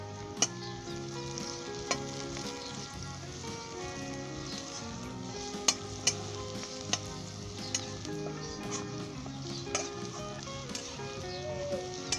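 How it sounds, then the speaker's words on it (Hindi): Spices fry with bitter gourd and onion in a pan, giving a soft continuous sizzle broken by light scraping ticks from stirring. The spices are pomegranate seed, turmeric, dried coriander, salt, cumin and crushed red chili. "इसे 1 मिनट के लिए हिला दें।"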